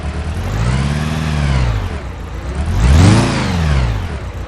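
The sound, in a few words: car engine running rough with cylinder 2 misfire, simulator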